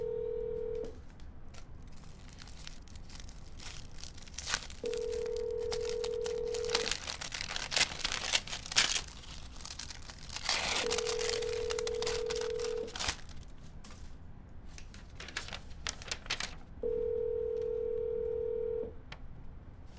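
Phone dialing repeatedly while cold calling, each round a quick burst of key tones followed by a steady ringback tone, the pattern recurring about four times over a busy background.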